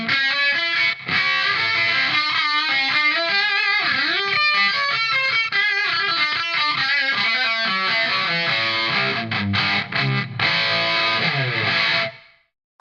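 A distorted electric guitar through a Peavey Windsor tube amp set to Class AB plays a tight, driven riff with chords and single notes for about twelve seconds, loud and upfront, ending abruptly.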